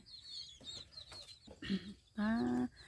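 Chickens on a small farm that also keeps ducks cluck in short scattered calls, building to a louder, drawn-out cluck near the end over a faint background.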